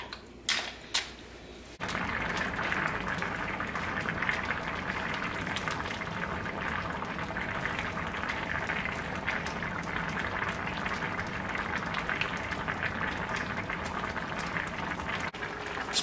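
A seafood pelau of rice with cod, shrimp and lobster simmers in a pot, giving a steady, dense bubbling and sizzling hiss that starts after a brief clatter and continues unbroken.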